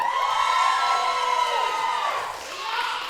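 Spectators at a Newcastle Pro Wrestling show cheer and whoop together in one loud burst that swells and then fades slightly.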